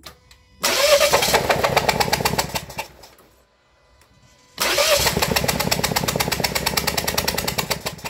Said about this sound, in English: Let's start it up without the spark plug in there and see what happens.